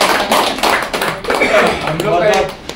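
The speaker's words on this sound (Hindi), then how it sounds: "उसके लिए भी एक बार ताली बजा दीजिए" Audience at a political felicitation program claps for a district president, an irregular patter of hand claps mixed with taps and thumps, with a voice audible over the clapping.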